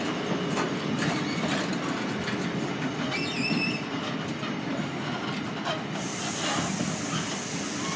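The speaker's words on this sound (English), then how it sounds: "Pretty bare and empty freight train, this one." An empty freight train rolls through Doncaster station, a loud continuous rumble with rhythmic clickety-clack of wheels on rail, a squeal partway through and a hiss toward the end.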